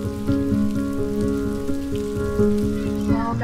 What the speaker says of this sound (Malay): sekarang ni tengah hujan